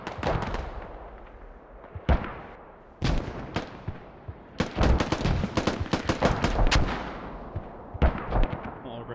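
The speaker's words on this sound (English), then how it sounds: "And the hab's disabled once again with mortars." Mortar fire and explosions in a competitive video game match, a series of sharp loud blasts and booms arriving in irregular clusters, some rapid in succession, close and punchy with decaying tails.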